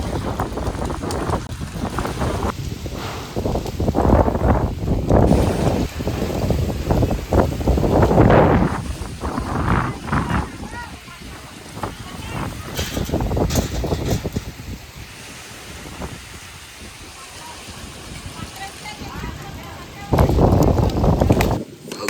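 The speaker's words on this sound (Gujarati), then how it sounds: "પવન એટલી જોરમાં ચાલી રહ્યો છે" Strong windstorm wind with rain roars and buffets the microphone in heavy gusts, with people talking loudly over it.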